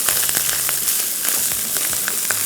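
Kimchi fried rice with boiled rice and plenty of green onion sizzles steadily in a hot pan, a dense continuous crackle with scattered sharper pops throughout, close and moderately loud with no one talking.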